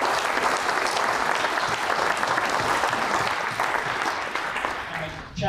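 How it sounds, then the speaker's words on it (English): Sustained applause from an audience honoring the Marine Corps Quantico band at a change of command ceremony, a dense even wash of clapping that holds steady before tapering slightly at the end. "just another round of applause for the Marine Corps Quantico band."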